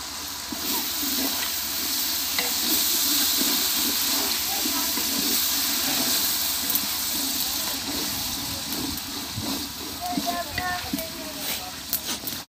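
Whole garam masala spices, bay leaf, cumin seeds, cloves, cardamom and star anise, sizzle and hiss steadily in hot oil in a pot for chicken pulao, with crackling pops scattered over a continuous frying hiss.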